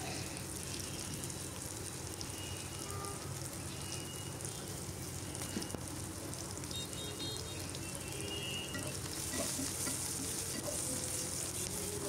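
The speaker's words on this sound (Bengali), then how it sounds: "এগুলো একটু নাড়াচাড়া করে ভেজে নিচ্ছি।" Green chillies and onion fry in oil as they are stirred, a low, even crackling sizzle that persists faintly and continuously throughout.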